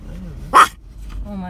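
A dog lets out a single sharp bark in the middle of a quiet moment, close and loud, with faint voices and low background noise around it.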